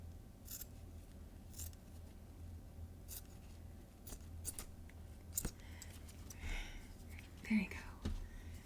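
Scissors cut off the extra length of a bandage wrap, giving quiet, close snips and soft rustling in a hushed ASMR setting, with faint whispering.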